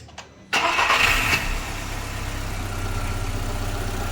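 A car engine cranks and catches with a sharp burst, then settles into a steady, close idle rumble that continues to the end.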